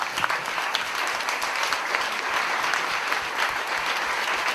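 Sustained audience applause fills the room at a meeting with Ginette Kolinka, a dense, steady patter of many hands clapping throughout without a break.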